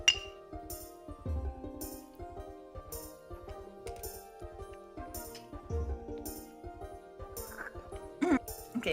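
Glasses clinking together in a toast over soju, several bright clinks scattered among background music, with people talking around them.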